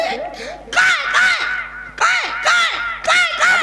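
A crow caws repeatedly in loud, harsh calls, bunched in short bursts that sound close by against a faint steady background hum.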